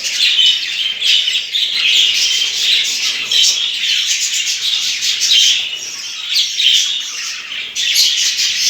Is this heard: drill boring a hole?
no